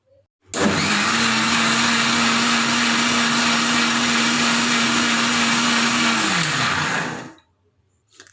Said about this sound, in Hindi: तो अब हम इसको ग्राइंड कर लेंगे मिक्सी में।